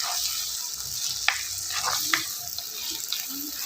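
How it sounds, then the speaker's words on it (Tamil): Small onions and garlic fry in a pan, a faint steady sizzle with occasional light stirring clicks. "இப்போ எல்லாத்தையும் போட்டு நல்லா வணக்கிக்கலாம் ஃப்ரெண்ட்ஸ்"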